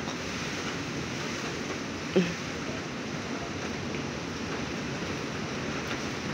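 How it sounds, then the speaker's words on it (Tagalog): Strong typhoon wind roars steadily around a house during a storm with light rain, a constant broadband rush with one brief bump, no voices. "Ang lakas po ng hangin"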